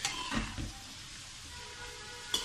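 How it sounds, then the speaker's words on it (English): Vegetables stirred in hot oil in a pan, a low, soft sizzle with a couple of scraping stirs near the start and a faint clink at the end. "So I've added the vegetables, keep stirring it"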